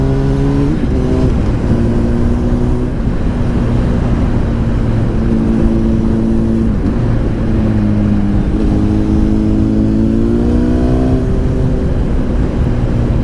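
A Honda CBR 1000RR Fireblade motorcycle engine at speed, loud and steady throughout with a droning exhaust note that rises and shifts in pitch as the revs change, heavy wind rush over everything and no talk.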